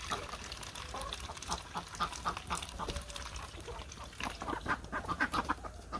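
Ducks quack and chatter in a village yard at morning, a steady busy flock heard at moderate distance with rhythmic repeated calls.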